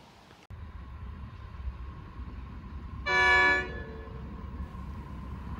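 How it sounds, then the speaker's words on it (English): A low steady rumble from the Ghan train in Australia, then a loud horn blast of about half a second midway before the rumble continues. "Now, you guys can see the Australia's longest train, the GAN, coming through this railway track."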